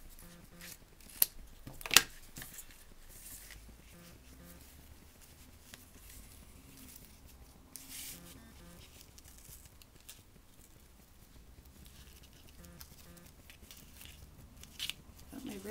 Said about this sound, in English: I am just going to cut off enough of this ribbon to tie a bow.